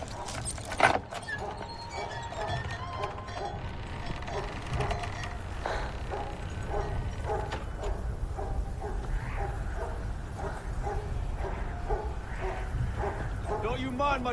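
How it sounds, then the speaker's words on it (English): A dog barks repeatedly in a steady rhythm in a horror film scene, the barks fairly faint and mixed under tense dialogue and background score. "Don't you mind my dog, Earl?"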